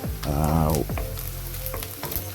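Garlic and onions sauté in a pan for meatless pilao rice, a close steady sizzle with a brief tonal hum and a few stirring knocks.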